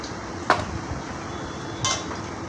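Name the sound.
mixing chicken with rock salt in a pot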